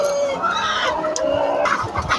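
A non-layer breeder hen clucks and squawks repeatedly while fleeing on a breeder farm, loud and close, with brief rustling.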